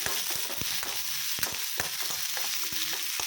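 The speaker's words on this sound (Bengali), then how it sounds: "কড়াইতে একটুখানি তেল দিয়েছি, পেঁয়াজটা ছেড়ে দেবো" Onion, green chili and coriander frying in a little oil in a wok, a loud continuous sizzle with spatula scrapes and clinks of stirring throughout.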